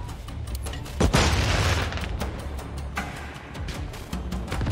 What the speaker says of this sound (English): Got an airstrike here.